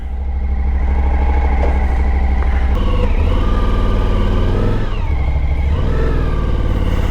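A Suzuki V-Strom 1050 DE motorcycle rides along with a steady, close engine drone, revs rising and falling through gear changes, loud and unbroken with no talk.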